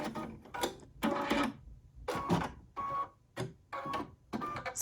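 A Brother VE2300 embroidery machine stitches in repeated bursts, several short runs of quiet mechanical whirring separated by brief pauses, fairly close.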